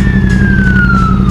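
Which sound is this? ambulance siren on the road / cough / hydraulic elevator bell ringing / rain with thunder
ambulance siren on the road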